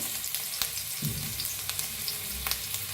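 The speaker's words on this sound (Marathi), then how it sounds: "तेल गरम झालं आहे त्याच्यात टाकूया अद्रक" Ginger hits hot oil in a pan and sizzles steadily, a dense crackling hiss with a low thump as it drops in and a few light clicks of stirring, no speech.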